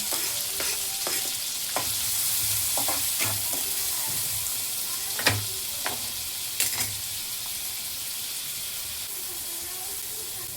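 Onion frying in oil in a pan for a homemade crab curry: a steady broad sizzle runs throughout, broken by a few sharp clinks and scrapes of stirring, moderately close, with no talking.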